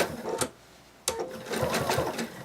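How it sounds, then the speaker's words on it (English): A sewing machine stitches around a small plush dragon wing in short bursts of rapid mechanical whirring, with a brief pause before it runs again. "So I'm going to go ahead and start sewing here,"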